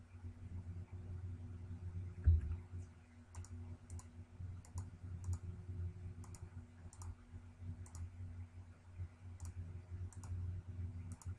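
Computer keyboard key presses, including the P key, while digitizing map features in cartography software; faint, sharp clicks come at a steady, intermittent pace over a low background hum, with no talking.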